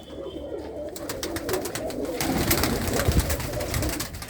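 Racing pigeons coo steadily close by at a loft, a continuous soft murmur of overlapping coos under a dense bed of background noise, with no talk over it.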